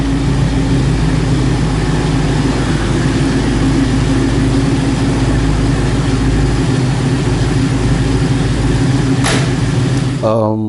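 An International Harvester vehicle's engine drones loudly and steadily, with a deep low rumble throughout, before cutting off abruptly near the end.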